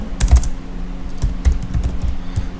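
Close, brisk typing on a computer keyboard while PHP database connection code is written, with irregular bursts of sharp keystrokes and short pauses between them.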